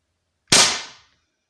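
A single sharp shot from an air rifle fitted with a Black OPS Soul Langley silencer, fired on a 10 m test range, a loud crack with a quick decaying tail and silence before and after.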